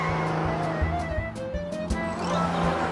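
A cartoon toy car zooms along under background music, a short whooshing motor-and-skid effect rising and falling over about three seconds.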